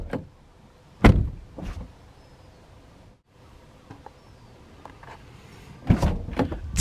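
A red 2015 Audi RS5 4.2 V8 Cabriolet's door handle is touched for keyless unlocking, giving a couple of sharp, close mechanical clicks and thunks with a short pause between them in a quiet setting.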